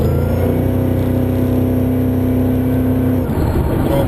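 A Holden Maloo with a 402 LS2 V8 and 4L80 automatic pulls at half throttle, a deep steady engine drone holding one pitch close and loud, then the tone breaks and drops near the end.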